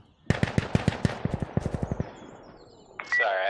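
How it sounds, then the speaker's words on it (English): Rapid automatic gunfire from Insurgency Sandstorm rattles off in a loud burst of about a dozen sharp, evenly spaced shots, then trails into echo before a brief harsh electronic tone. "Stop shooting me,"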